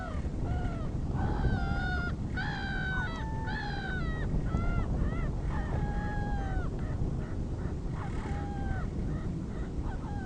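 Two gulls trade repeated harsh, honking calls back and forth over a steady bed of background noise, the cries rising and falling in short bursts.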